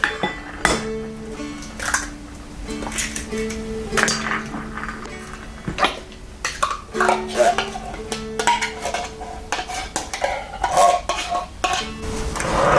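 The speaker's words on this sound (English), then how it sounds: "So now we'll just mix this all together and be ready to put it in the muffin tins." Meat muffin mixture with eggs and tomato soup is stirred in a bowl, with repeated clinks and scrapes of a utensil against the dish in an uneven rhythm, close and moderately loud.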